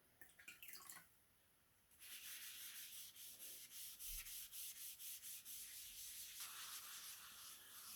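Brillo pad rubbed over wet paper for a comic book photo transfer, a close, steady scrubbing rasp in quick repeated strokes after a brief softer start, with faint drips and no talk.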